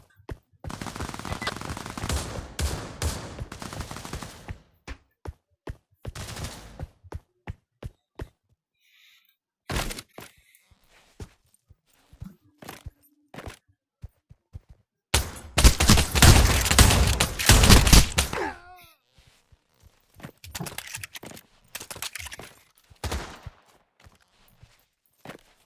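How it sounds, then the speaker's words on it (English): Bursts of automatic gunfire and scattered single shots in the VR shooter Pavlov VR, with dense rattling volleys around the start and middle and sparser cracks and thuds between them. "I'm getting shot at."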